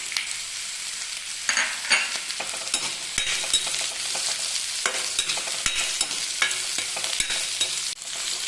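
Ginger and garlic sautéing with softened onions in a pan for a spicy fish curry, a steady close sizzle broken by frequent scraping and stirring clicks of a spoon against the pan.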